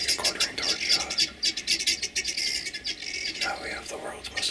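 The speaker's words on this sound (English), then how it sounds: "Now we have the world's most obnoxious birds." Noisy African birds call over and over in a rapid string of harsh, high chirps and squawks close by, with faint whispering underneath.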